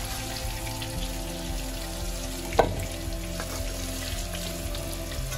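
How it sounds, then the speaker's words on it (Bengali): Potatoes fry in hot oil, a quiet steady sizzle with a single sharp clink midway, close and alone without talk. "আলুগুলো হালকা লাল লাল করে ভাজা হয়ে গেছে"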